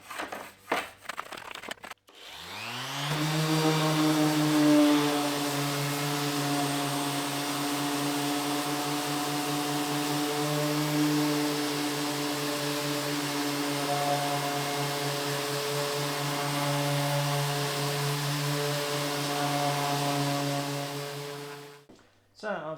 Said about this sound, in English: So I'm going to switch to sanding now.